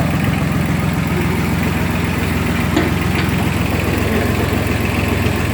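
A small three-cylinder engine on a hydraulic well-drilling rig idles at low revs, a steady close rumbling drone with an even throbbing pulse and no speech.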